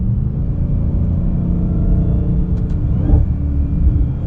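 A deep, rumbling supercharged V8 of a 2020 Dodge Charger SRT Hellcat Widebody idles and burbles, with a couple of brief revs and shifts in tone as the ZF automatic downshifts.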